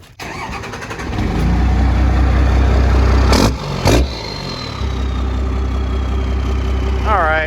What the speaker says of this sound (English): this is a 2007 Mercedes turbo diesel. 5-cylinder.